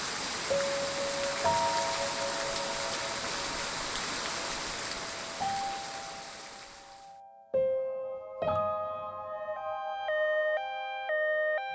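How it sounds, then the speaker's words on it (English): Heavy rain pours steadily, then an ambulance siren sounds in sustained, wavering tones that grow louder and more prominent as the rain noise drops away, with a few sharp impacts mixed in. "The ambulance arrived amidst heavy rain."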